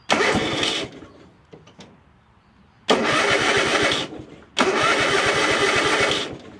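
Toyota RAV4 engine cranking three times without catching, each burst a loud, close, rhythmic churning of about one to one and a half seconds, separated by quiet pauses.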